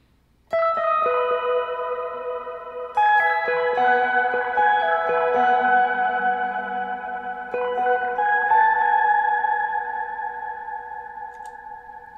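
Reverb from a Hologram Chroma Console effects pedal on sustained tonal notes, three chord attacks that bloom into long, shimmering, echoing tails, heard alone and slowly decaying.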